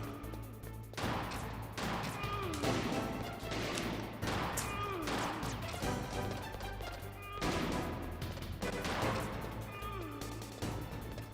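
Gunfire from the PS1 game Metal Gear Solid, several sharp shots scattered across a dense soundtrack of music and effects, fairly loud throughout with no clear gaps.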